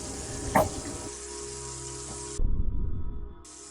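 Water running and splashing as a face is washed at a tap, a continuous close hiss that surges louder and rougher near the end, with no voices.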